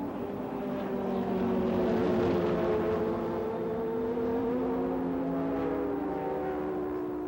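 Jaguar and Nissan sports prototypes at the 1990 12 Hours of Sebring roar down the front straight, a loud sustained engine drone with shifting pitch as the cars pass close by.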